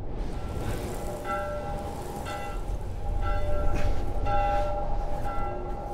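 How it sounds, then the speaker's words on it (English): Church bells ring in The Last of Us video game, a series of repeated tolls over a steady, rumbling in-game ambience that swells slightly midway. "we just gotta follow the church bells"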